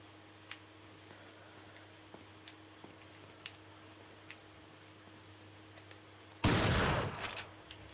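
A magnum revolver shot in the Resident Evil 4 video game, a single loud broadband blast with a decaying tail that follows several seconds of quiet ambience and faint ticks.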